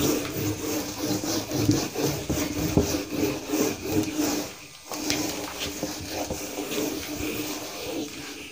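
An eraser rubbed back and forth across a classroom board during a maths lesson, giving steady scraping strokes in a repeated rhythm, fairly close and moderately loud, with a short pause midway and no talk over it.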